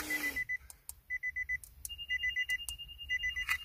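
Nissan 370Z door-open warning chime: repeated bursts of three to five quick electronic beeps in a steady pattern, fairly loud and close inside the cabin, with no voices.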